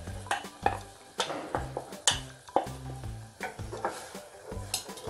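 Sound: stirring green gram kurma ingredients in a pan

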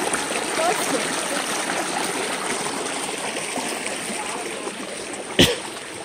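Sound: river water flowing and splashing

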